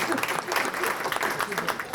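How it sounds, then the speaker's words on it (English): Applause from diners at a chamber of commerce anniversary dinner and awards night, a steady dense clatter of many hands filling the room for the full two seconds. "let's have a round of applause for the VDA"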